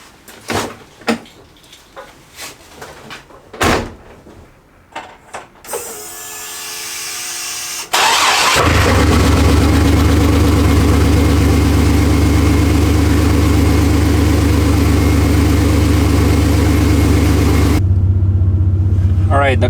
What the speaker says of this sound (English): Y'all ready for this cold start?